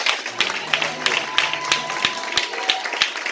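Church congregation at an Easter service clapping and cheering, with sharp claps and crowd noise rising and falling in a lively wave, fairly close and full.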